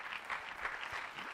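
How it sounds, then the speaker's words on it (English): Audience applause filling a hall at a talk on creativity and change, a steady dense patter of many hands clapping at moderate, fairly distant level for its brief duration. "So please help me clap for these people for doing this."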